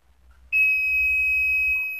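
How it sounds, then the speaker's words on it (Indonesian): A multimeter's continuity buzzer, used while testing a diode on a Polytron LED TV board, gives a single sustained high-pitched beep lasting over a second after a brief click, close and clear, with a low hum underneath. "Ukur dioda pakai buzzer."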